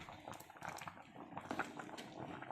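Vegetable sambar with large chunks of vegetables simmers in a pot, giving a steady close bubbling and gurgling of boiling liquid with no talk.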